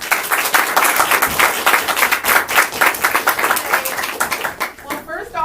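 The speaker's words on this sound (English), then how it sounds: "I'll hand the reins to Leah, if you all could welcome her in with a warm round of applause." Warm round of audience applause welcoming a speaker at a law students' event, dense close clapping from a crowd lasting about five seconds before tapering off, with a voice briefly heard.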